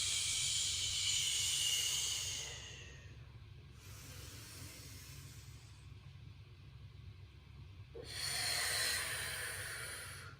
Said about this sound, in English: So a slow 2-count breath would go.